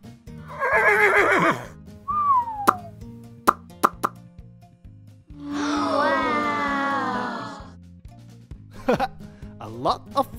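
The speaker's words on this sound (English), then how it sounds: "A horse." A whinnying neigh rises and falls in the middle, set among other animal calls and sharp clicks, with a brief high squeal before it.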